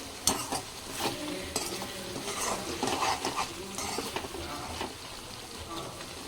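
Capsicum curry made with coconut milk is stirred in a pan after coriander goes in, a soft ongoing sizzle broken by repeated scraping strokes of a spoon against the pan, close and fairly even throughout.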